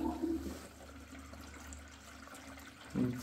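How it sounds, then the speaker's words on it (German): Water from a newly fitted washbasin faucet runs into the sink, a faint, steady low rush with a brief louder surge near the end and no voices. "jetzt lasse ich das Wasser laufen"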